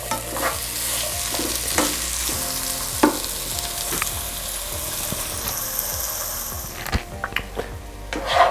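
Italian sausage frying with vegetables in a pan for a keto sausage, peppers and onions dish, with steady close sizzling and repeated scraping stirs of a utensil against the pan, no talk.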